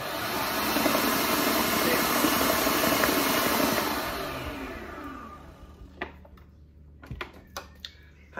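A kitchen blender whirs loudly while mixing cake ingredients at home, running for about four seconds before winding down, followed by a few sharp clatters of handling.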